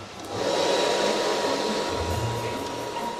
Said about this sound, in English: So we'll just pop the dryer on now.